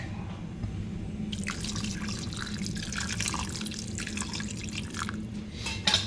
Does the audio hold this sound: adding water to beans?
yes